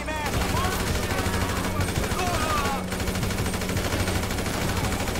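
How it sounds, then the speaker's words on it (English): AK rifle gunfire in the video game GTA V, continuous rapid automatic bursts at moderate level, dense and unbroken across the clip, with game sounds in the background. "AK time, baby."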